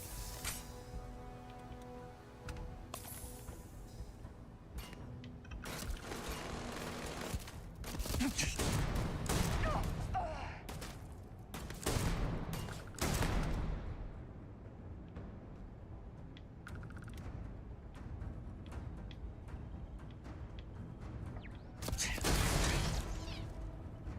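Bursts of gunfire ring out in the space game Starfield, with rapid volleys of shots fired near a window coming in clusters between quieter stretches of ambient noise and mechanical clicks.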